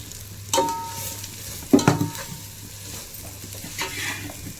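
A spoon scrapes and clanks against a pan a few times over a soft sizzle of salt and turmeric being mixed into cabbage, two sharper stirring knocks standing out, no speech.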